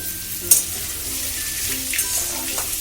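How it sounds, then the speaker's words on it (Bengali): Chopped potato pieces sizzle in a pan with a constant bright hiss and a single quick clink of a utensil near the start, close up and with no voices. "আলুটাকে আমি ভালো করে ভেজে নেব"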